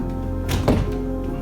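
A Bosch dishwasher door with worn springs swings and settles with a single dull thunk, heard close over a steady low background hum, with no talking.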